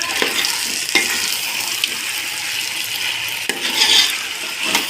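Food stirred with ghee in a hot pan gives a loud, continuous frying hiss with a few sharp spoon knocks against the pan, close up and without talk.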